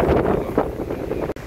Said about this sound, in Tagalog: hindi tayo masyadong makatulog dahil nga sobrang lakas ng hangin